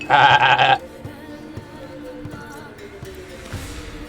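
A goat in The Witcher 3 lets out one loud, close bleat, followed by quieter game ambience with faint thumps and soft background sounds.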